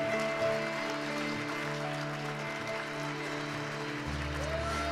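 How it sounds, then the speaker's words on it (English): A church congregation at an evening service claps and applauds in a steady, dense wash of hand claps, mixed with sustained organ or keyboard tones underneath, no speech over it. "keep clapping for the Holy Ghost"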